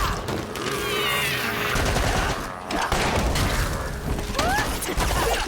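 Rapid pistol fire in the Lost Ark action game, a dense close run of gunshots and impact booms mixed with whooshing skill effects and metallic mechanisms, loud and continuous.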